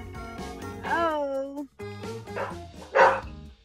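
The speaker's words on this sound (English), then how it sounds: "Lula, no barking. No barking." A pet dog barks at a front door caught on a doorbell camera, a few sharp close barks and yips mixed with a person talking over it.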